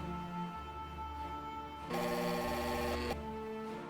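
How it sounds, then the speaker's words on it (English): An entry phone rings in the point-and-click adventure game Chronicles of Mystery: The Scorpio Ritual, a steady electronic trill that brightens into a louder burst partway through, with no talk over it. "I have to use the entry phone."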